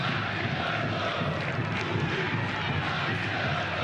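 São Paulo supporters in a stadium at a Brazilian league football match against Vasco, a continuous broad roar of crowd noise that holds steady throughout, with a commentator's voice faintly underneath.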